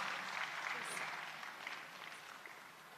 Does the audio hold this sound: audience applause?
yes